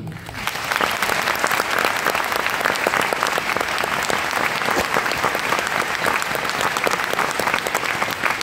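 A hall audience at a French show bursts into sustained applause, with dense, even clapping from a large crowd that holds steady for several seconds.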